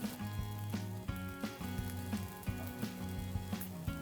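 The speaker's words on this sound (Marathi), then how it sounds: "पोळ्यावरती आपण तूप मस्त पसरून घेऊया आणि ते पलटून घेऊया." Dill flatbread (shepuche pole) spread with ghee sizzles on a hot pan, a soft steady crackle broken by repeated light taps and knocks of a spatula, close and moderately quiet.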